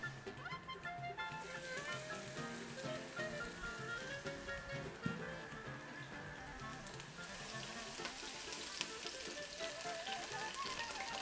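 Garlic sizzles in olive oil in a pan while making bacalhau, a steady, even crackle running throughout at moderate volume with faint talk in the background.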